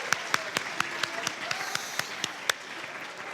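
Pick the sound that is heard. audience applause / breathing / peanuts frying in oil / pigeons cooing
audience applause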